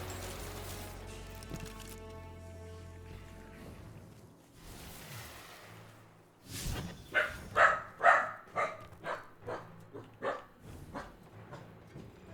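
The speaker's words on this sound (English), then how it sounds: "Puppy." A puppy in the video game Edge of Fate barks about a dozen times in a rhythmic run of sharp yips. Soft tonal music plays beforehand, then the barking starts loud and close.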